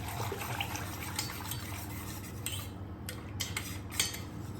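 Khandvi batter stirred through a metal strainer, faint soft scraping and light clinks over a quiet liquid wash, close and steady with no talk.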